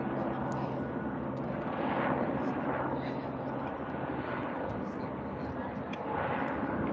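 Helicopters pass overhead in Broadview, Illinois, a steady distant rotor drone with slow swells in loudness over a quiet outdoor background.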